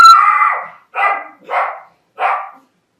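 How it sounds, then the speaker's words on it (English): A dog barks loudly and close by, one long drawn-out bark followed by three shorter, evenly spaced ones against an otherwise silent background. "My dog just started barking."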